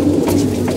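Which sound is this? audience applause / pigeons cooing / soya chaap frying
pigeons cooing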